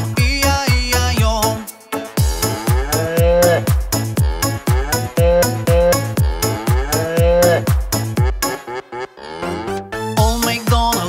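Cow moos in a children's farm-animal nursery rhyme are sung in a rhythmic stream of long, tonal calls over a bouncy musical backing, likely a voice imitating the cattle.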